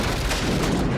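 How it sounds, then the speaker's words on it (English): A loud, dense explosion from the 1988 action film Rambo III roars as an unbroken wall of rumbling noise for about a second, with no voices over it. "Oh, here comes the explosion!"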